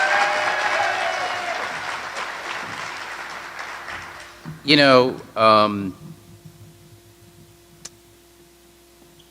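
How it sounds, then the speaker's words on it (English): A school audience applauds Betty Francis at a partnership launch event, the clapping loud at first and fading over several seconds, with a voice speaking briefly through the tail before it trails off. "Can we give her a loud round of applause?"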